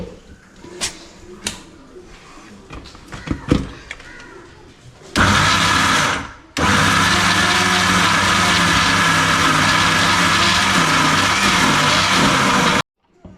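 Blender whirring as it mixes an Oreo shake with sugar, starting with a short burst and then running loud and steady for several seconds before cutting off. A few scattered knocks come before it starts.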